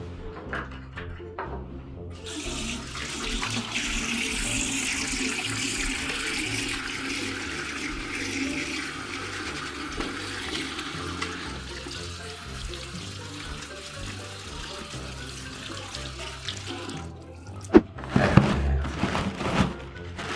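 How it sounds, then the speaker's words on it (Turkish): Tap water runs in a steady splashing stream while hands are washed beneath it, close and moderately loud, stopping abruptly before a few clattering handling sounds. "Şimdi ellerimi güzelce yıkayayım."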